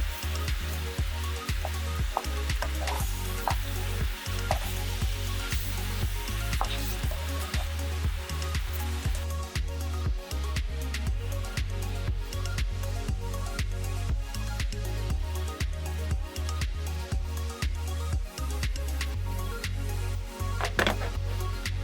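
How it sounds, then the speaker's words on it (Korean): Rice cakes, long fish cakes and boiled eggs are tossed and stirred in a small amount of thick tteokbokki sauce, giving repeated soft scraping, tapping and sticky squelches in an uneven rhythm, close and moderately loud, with no voices. "길쭉한 오뎅과 가래떡 그리고 삶은 계란을 넣고 전체적으로 소스를 코팅해 줄게요"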